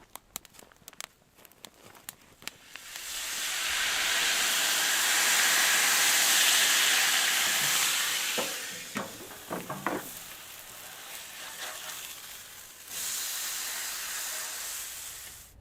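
Potatoes sizzle over a windy camp fire, a steady hiss swelling for several seconds, easing into scattered crackles and pops, then returning as a second sustained sizzle.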